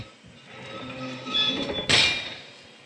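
Door sound effect for a game: a short creaking slide that builds, then a sharp metallic clunk and clink as it shuts, heard alone.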